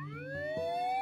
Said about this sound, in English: Didn't I tell you the ambulance would be here soon, Elfie?